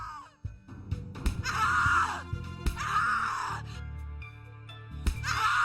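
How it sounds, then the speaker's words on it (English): A woman screams and wails in the horror video game The Cat Lady, several long, loud anguished cries broken by gasps and thuds. "Scream louder, little bitch! Scream your lungs out!"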